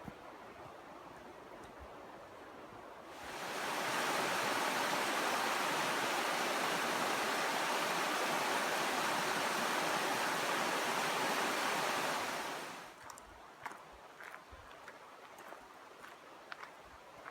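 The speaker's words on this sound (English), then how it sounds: "you can already hear the water from the creek up here" A loud, steady rush of water flowing in Laurel Creek on the Appalachian Trail in Tennessee swells in, holds for about ten seconds, then fades to quiet with faint ticks.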